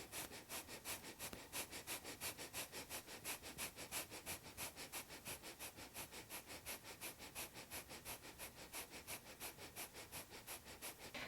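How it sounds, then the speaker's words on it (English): Rapid, light breath of fire through the nose, a steady train of quick, evenly spaced sniffing pulses for several seconds, close and fairly quiet with no talking. "Breath of fire is the light breath in and out of the nose that goes quickly in and out."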